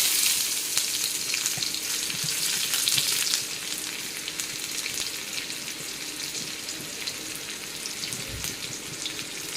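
Onion and tempering spices sizzle in hot oil, a steady broadband frying hiss that is loudest early on and settles slightly, with occasional soft stirring knocks and no talking.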